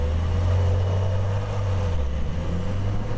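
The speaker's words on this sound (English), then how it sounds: "with the sport exhaust, I can tell you that it does sound different" A Porsche 911 Carrera 4S Cabriolet engine with sport exhaust drones steadily with a deep, throaty exhaust rumble, loud and close, holding a constant low tone without any talking.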